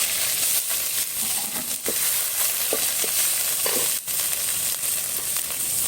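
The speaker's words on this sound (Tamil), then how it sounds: "கடுகு பொரிஞ்சதும் அதில் கருவேப்பிலை போட போகிறோம்." Mustard seeds and curry leaves fry in a clay pot for a village-style mutton dish, giving a steady dense sizzle with scattered small pops and crackles throughout, close and fairly loud, with no talking.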